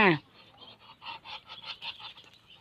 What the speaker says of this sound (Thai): เป็ดน้อยครับเนี่ยครับ